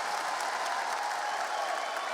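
A large crowd at a CS:GO esports semifinal, IEM Sydney 2017, applauds in a dense, continuous wash of clapping that holds steady throughout.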